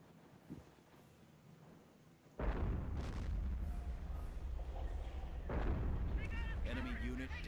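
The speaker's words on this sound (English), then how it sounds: "Hummel firing again." Hummel artillery firing in the video game Europe in Ruins, a quiet stretch with a small pop, then loud booming blasts and rumbling explosions that carry on to the end.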